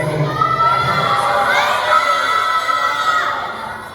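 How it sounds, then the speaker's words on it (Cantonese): A crowd at a promotional event for a television drama screams and cheers loudly in a continuous high-pitched roar that fades slightly near the end. "我哋冇吝嗇啦，啲尖叫聲同埋歡呼聲。"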